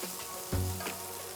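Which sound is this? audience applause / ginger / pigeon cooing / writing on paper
ginger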